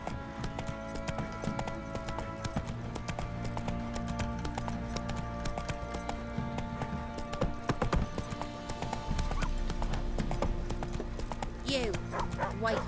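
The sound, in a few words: horse Roach galloping in video game The Witcher 3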